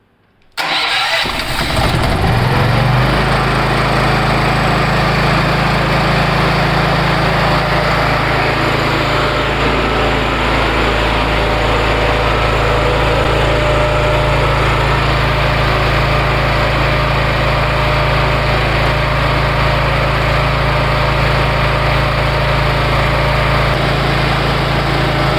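A four-stroke engine, being checked for smoke after an engine oil brand change, cranks and catches within the first couple of seconds, then settles into a loud, steady idle that runs unbroken for over twenty seconds.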